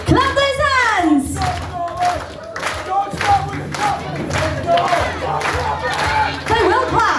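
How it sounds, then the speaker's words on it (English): A crowd claps and cheers at a live event, a dense, steady wash of hand claps and shouting voices holding at a loud level throughout, with an announcer's voice rising over it at times. "They will clap! Clap louder! Keep going!"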